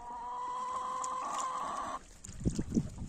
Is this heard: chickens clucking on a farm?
yes